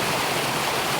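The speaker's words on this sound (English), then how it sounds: "I'm right here next to this beautiful waterfall still" Waterfall in autumn Maine woodlands, a close, dense, steady rush of falling water, broadband and continuous with no pauses.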